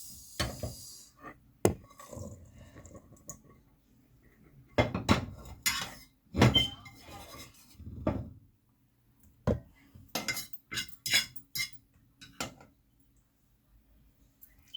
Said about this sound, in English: I'm going to add the mince into this and then mix it a little bit.